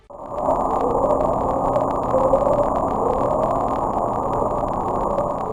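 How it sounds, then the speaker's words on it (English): Upsweep, the unexplained ocean sound picked up by Pacific hydrophones, heard as a loud steady band of rising tonal sweeps over dense underwater noise, continuing for several seconds with no talk. "it's a series of short ascending tones repeated at intervals of several seconds"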